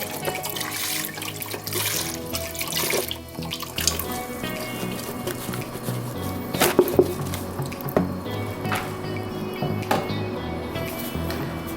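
About a liter of apple juice pours steadily into an Instant Pot in a kitchen, a continuous liquid rush with splashing and dripping throughout, close and moderately loud with no talk.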